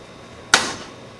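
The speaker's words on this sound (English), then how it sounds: "Like, that is my only option, is cutting that bolt." A car bolt is cut during a power brace install on an S13 240SX, heard as one sharp, bright metallic snap that fades quickly, close and loud against a quiet background.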